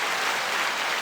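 Applause sound effect played for a podcast guest, a short dense burst of clapping and cheering at steady loudness, ending abruptly.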